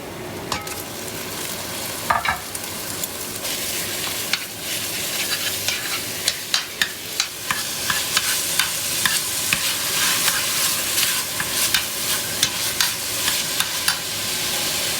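Fresh ground beef browns in a pot with a steady, close sizzle, broken by a regular run of sharp scraping clicks from a stirring utensil. It grows denser toward the end, with no talk.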